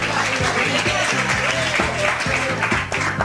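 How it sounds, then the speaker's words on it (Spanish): Studio audience applause on an Ecuadorian TV comedy show, steady clapping throughout mixed with loud rhythmic background music. "Un aplauso para ellos."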